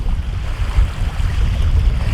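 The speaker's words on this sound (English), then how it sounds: "It's little windy." Steady wind buffets the microphone beside clear water near Wawa, Ontario. It makes a low, continuous rumble with faint surf lapping underneath and no one talking.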